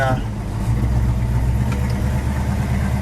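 A yellow 1970 Dodge Super Bee with a 440 Six Pack V8 rumbles at a loud, lumpy idle up close, its low throbbing tone steady and unbroken.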